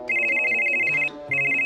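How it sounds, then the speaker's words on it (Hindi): A cartoon mobile phone rings with a bright electronic ringtone, two loud repeated bursts separated by a short pause, heard alone. "फोन बज रहा है।"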